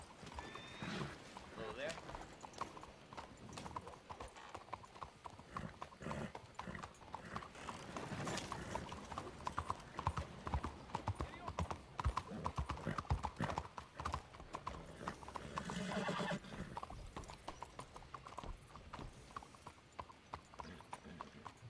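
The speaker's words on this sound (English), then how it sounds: "I think your horse scared my horse." Steady clip-clop of horse hooves with mechanical clatter and an occasional whinny in the video game Red Dead Redemption, while people talk over the sounds.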